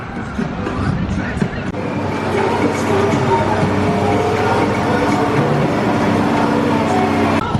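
The Cannonball roller coaster train at Dorney Park in Allentown, Pennsylvania rumbles and clatters steadily along its track, with mechanical rattling and a low continuous drone, voices talking faintly amid the noise.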